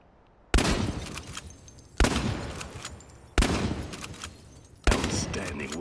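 Four heavy shotgun blasts from the video game Chernobylite boom out at steady intervals, each sharp report trailing into a rumbling decay, loud and close with no voices.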